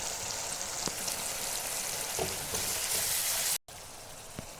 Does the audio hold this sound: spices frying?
yes